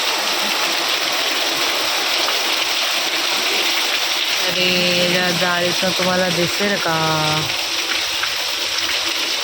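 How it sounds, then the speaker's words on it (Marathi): Steady, loud broadband hiss of heavy rain pouring continuously, with someone speaking over it partway through. "खूप पडते, जोरदार पाऊस पडते"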